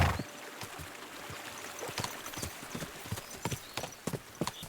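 A horse gallops in the game Kingdom Come Deliverance 2, its hooves beating a quick, steady clip-clop over a broad rushing background, fairly close and without talk.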